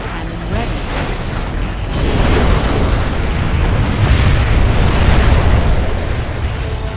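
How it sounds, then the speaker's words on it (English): A particle cannon superweapon fires in the strategy game Command & Conquer Generals, a loud sustained roaring blast with deep rumble that swells after about two seconds and holds steady, with game voice announcements layered in. "Particle cannon activated."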